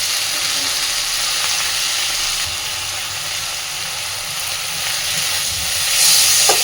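Dried Bombay duck fish (lote shutki) sizzling steadily in a hot pan, a continuous broadband hiss of frying with no talk, swelling slightly louder near the end.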